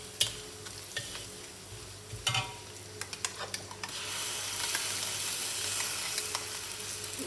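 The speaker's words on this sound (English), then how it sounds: "Garlic and the dried prawns brown nicely, so I am going to add the chilli paste." Chilli paste hits a hot pan with browned garlic and dried prawns, a few scrapes and taps of stirring giving way to a steady loud sizzle of frying, close up with no voices.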